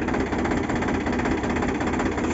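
A tractor engine running steadily nearby, a loud continuous mechanical drone with a rapid even throb and no voices over it.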